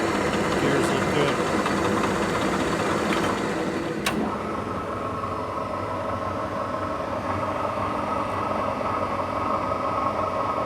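A Ransome 25-P welding positioner runs with its gears turning, a continuous close mechanical hum and rumble with one sharp click partway through, steady throughout.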